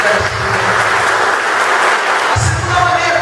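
A church congregation bursts into broad applause at a Catholic preaching night, steady clapping from many hands filling the space, with low murmurs beneath it.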